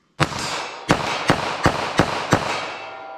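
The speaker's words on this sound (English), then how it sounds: "I want to shoot some of that ball through this LCP here" A Ruger LCP .380 ACP pistol fires FMJ ball ammunition in seven rapid, loud shots, each sharp report overlapping the reverberating tail of the one before.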